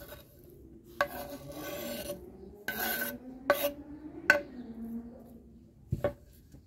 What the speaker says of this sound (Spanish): le voy a dar otra pasadita para que quede más finita